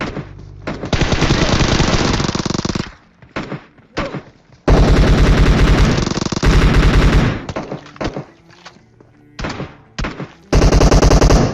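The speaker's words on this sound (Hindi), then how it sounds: "लेकिन बहुत ही खतरनाक फायर हुआ" Heavy automatic gunfire in the PUBG Mobile battle royale game, loud sustained bursts of machine-gun fire alternating with short pauses and single shots, close and dominant with no talking.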